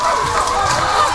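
RTL (ready-to-lay) chickens on a rural provincial farm give a brief, steady clucking murmur that fills a moment with fairly loud, close flock chatter.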